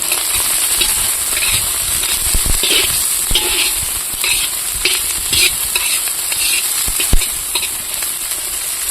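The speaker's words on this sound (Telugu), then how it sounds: "క్యారెట్ వేసుకుందాం బీన్స్ పచ్చిమిరపకాయలు కొద్దిగా కలుపుకున్నాం" Carrots, beans and green chillies sizzle steadily in hot oil in a pan while making village-style egg fried rice, with a constant frying hiss broken by occasional scraping stirs and taps close by.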